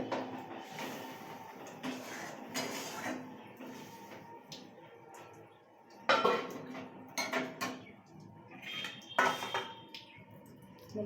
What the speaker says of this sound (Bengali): এরপরে মা ভেজে রাখা মাছটা দিয়ে দিচ্ছে এখানে